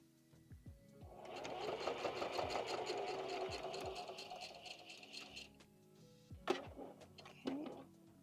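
A sewing machine stitches through a handmade junk-style art journal for watercolor pencils, a close rapid mechanical whir running steadily for several seconds before stopping, followed by a couple of brief clunks.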